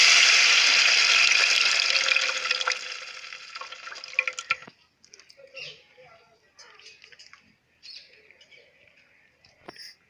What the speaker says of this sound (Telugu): తాలింపు ఫ్రై అయిన తరువాత చింతపండు రసం పోసుకుందాం.